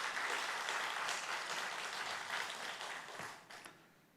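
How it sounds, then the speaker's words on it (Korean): A church congregation claps after a special hymn performance, giving a full, steady wash of applause that fades out near the end. "다시 한번 하나님께 영광의 박수 한번 올려드리겠습니다"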